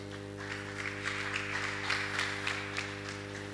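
A church congregation claps during a Sunday service, a scattered, rhythmic patter of hands over a steady electrical hum.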